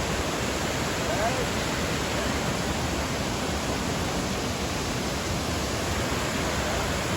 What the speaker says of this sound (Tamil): ஃபால்ஸில் செம்ம தண்ணி வருது.